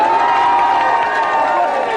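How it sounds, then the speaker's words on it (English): A television game show studio audience cheers loudly and steadily for a departing team on GamesMaster, a dense roar of shouts and whoops close up with no pause. "Let's have a big commiserating cheer for them."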